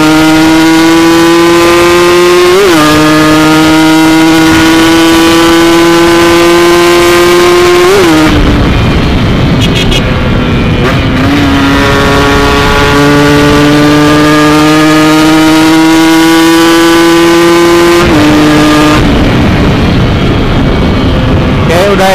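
A motorcycle engine fitted with a TM32 carburetor runs on a test ride, loud and close, with long smooth pulls that climb in pitch and several sharp gear-change dips between them.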